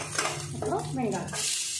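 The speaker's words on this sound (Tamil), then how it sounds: "வெங்காயம் கொஞ்சம் நல்லா வதங்கிட்டோம்" Onion sautéing in a pan with curry leaves and ginger, a steady sizzle with repeated scraping stir strokes, close and fairly loud, a voice briefly audible in the background.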